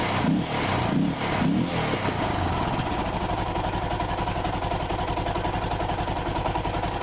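Yamaha MT500 single-cylinder motorcycle engine idling after a Dellorto PHF34 carburettor rebuild, a steady close putter settling into an even rhythm after some louder knocks at the start.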